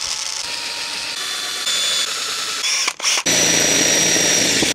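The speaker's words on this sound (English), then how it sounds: "3mm drill bit going through" A 3mm drill bit bores through metal on a campervan, a steady close whirring grind that cuts out briefly near the end and then resumes louder.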